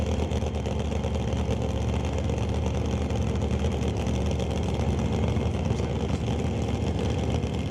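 A drag racing funny car engine running at an NHRA event, a steady loud low rumble that holds without break, heard alone.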